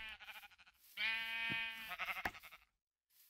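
Sheep in Minecraft bleating in a short wavering burst, fairly quiet and alone with no talking, followed by a brief silence and a soft trailing sound.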